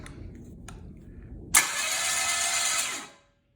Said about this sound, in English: I got the positive lead to the starter, and I'm doing just the screwdriver trick to get it to turn over